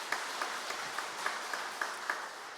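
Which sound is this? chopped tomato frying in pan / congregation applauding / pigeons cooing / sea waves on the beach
congregation applauding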